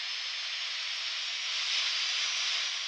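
Alphajet jet engines in the flight simulator DCS World, a steady airy turbine whine and hiss that holds constant at moderate level, swelling slightly near the end.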